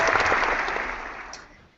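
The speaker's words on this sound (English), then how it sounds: "Is everybody in here clapping for this guy?" An indoor audience claps steadily in a dense wash of applause that gradually fades out over about two seconds, with no voices over it.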